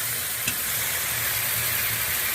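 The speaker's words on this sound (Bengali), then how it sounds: "আদা বাটা আধা চামচ দিয়ে দিলাম। ভালো করে কষিয়ে নেব।" Ginger paste and spices stir-fried in oil for a fish curry with ridge gourd and potato, giving a steady close sizzle with a low hum underneath and one brief clink near the start.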